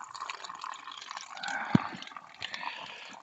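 Water runs out of a pipe into a small pond with a soft, steady trickle and splash, broken by one dull knock midway.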